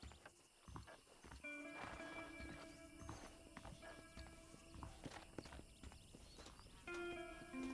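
Horses clip-clopping in the Red Dead Redemption video game, with soft hoof thuds and an occasional snort under a bed of game music and ambience, fairly faint throughout.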